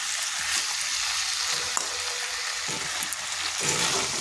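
Vegetarian pumpkin curry is stir-fried (kosha) in a pan with a close, continuous sizzle and a few stirring scrapes and taps, and no one talks.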